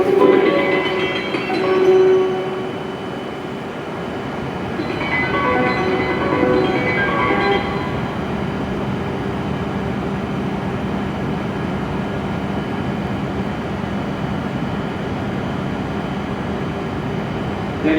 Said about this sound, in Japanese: 12番乗り場から輝き号東京行きが発車いたします。